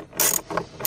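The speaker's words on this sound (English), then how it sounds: "you can put your ratchet in and go ahead and undo" A ratchet undoing a 10mm bolt, giving two or three quick close clicking sweeps of the pawl in under a second.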